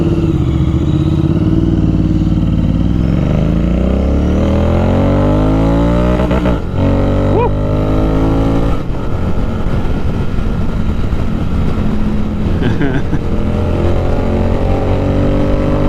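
A Royal Enfield Interceptor 650 twin-cylinder motorcycle being ridden, its loud close exhaust note rising through the revs, dropping on gear changes and climbing again, with wind rush behind it.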